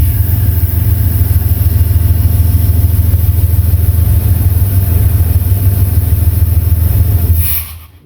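A GMC OBS truck engine runs steadily at idle with a low, even drone and a faint hiss of air being drawn in, continuing alone and loud until it drops away at the very end.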